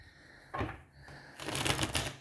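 Tarot cards are shuffled by hand in a short burst, with crisp riffling flutters and a soft tap between them, close and quiet, no talking.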